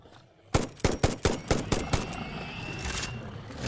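Rapid weapon fire in the video game Satisfactory, about eight loud, sharp shots in a quick, slightly uneven burst up close, then a trailing rumble and faint whine as the firing stops.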